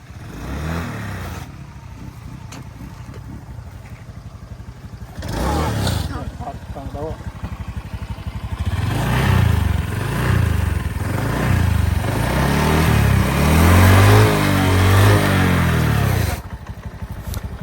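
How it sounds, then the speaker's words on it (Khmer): An old Suzuki motorcycle engine runs close by on Phnom Kulen, revving repeatedly in rising and falling bursts, growing louder toward the end before easing off. "ឃើញម៉ូតូស៊ូមើកាចាស់ចឹងមែនតែខ្លាំងដែរណា"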